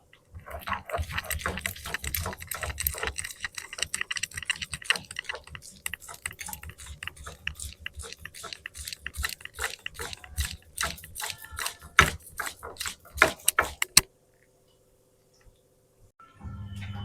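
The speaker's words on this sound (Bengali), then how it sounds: "আলুটা ভাজতে বসিয়ে এদিকে পোস্ত বেটে নেবো" Poppy seeds are ground into a paste by hand, making rapid rhythmic scraping and clacking strokes close by that run steadily, then stop suddenly before a brief quiet stretch.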